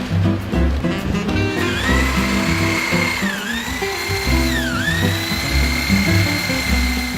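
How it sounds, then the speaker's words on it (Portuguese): An electric drill drives a disc mill grinding malt for home brewing, a loud, continuous whine with mechanical grinding and rattling, its pitch dipping twice as the load increases. "A gente adapta a gambiarra cervejeira aqui para a furadeira para fazer a moagem com mais rapidez, mais eficiência e com menos esforço físico."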